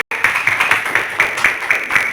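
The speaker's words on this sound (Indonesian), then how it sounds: "Tepuk tangan Bapak Ibu." Classroom audience of adults claps together in a quick, rhythmic pattern of distinct beats, loud and close, after a short silent start.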